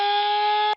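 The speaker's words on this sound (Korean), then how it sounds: "사이렌인데요." A short electronic siren tone played from a smartphone app through the phone speaker, steady and harmonic-rich, cutting off abruptly after under a second.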